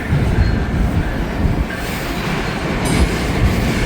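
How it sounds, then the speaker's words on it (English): A train rolls through a rail diamond crossing in Marion on a windy day, a loud, continuous rumble of wagons passing close by with rhythmic wheel clatter and a brief high squeal near the end. "There's that train."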